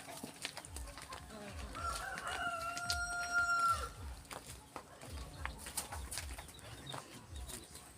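A rooster crows once, loud and drawn out, over a background of clucking hens and scattered farmyard noise.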